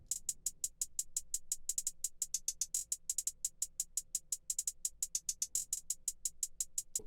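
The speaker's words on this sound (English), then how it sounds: "There's a couple rolls in here," A programmed trap hi-hat pattern from a drum kit, crisp metallic ticks in a steady fast pulse with quicker roll bursts, under a faint low hum, no voice.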